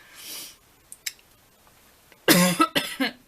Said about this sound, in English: I'm just going through like a coughing fit.